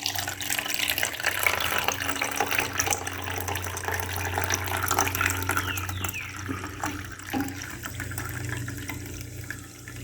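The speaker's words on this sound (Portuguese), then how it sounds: "Agora eu vou acrescentar água aqui devagarzinho para a moeda não sair também" Water poured slowly into a pot holding a coin: a steady, continuous trickling and splashing runs close and fairly loud for the whole stretch, with no talk.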